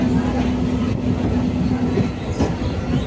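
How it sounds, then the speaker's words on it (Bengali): A train on the narrow-gauge Janakpur–Jaynagar railway in Nepal rumbles steadily from close by, with a low hum and rolling rattle of the carriages throughout. "এটা হচ্ছে সর্বপ্রথম নেপালে এই ইঞ্জিনটি ব্যবহার করা হয়েছিল"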